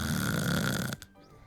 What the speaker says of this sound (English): The snoring.